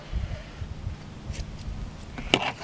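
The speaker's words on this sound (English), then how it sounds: "I'm going to fold it over and cut the loop." Scissors snip through folded craft wax strands while making homemade wax craft sticks, a quiet close cut over faint low rustling and handling.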